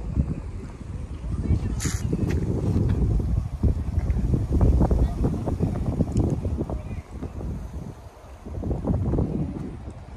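Light wind blowing outdoors at a scenic spot beside a mansion in Cyprus, rumbling gusts buffeting the microphone in waves, with a person talking over it.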